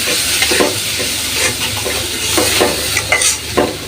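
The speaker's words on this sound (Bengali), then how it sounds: "ভালোভাবে কষাই নেব মশলাটা" Ginger-garlic masala paste stirred and frying in a pan for an ilish fish-head and kochu loti curry, with a steady sizzle broken by repeated scraping strokes of a spoon.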